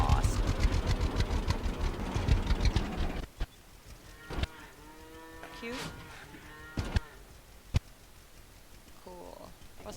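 Cows mooing in the farming video game Farmer's Dynasty, long low moos over a rumbling idling vehicle engine that cuts out partway, with a few clicks and a brief spoken word.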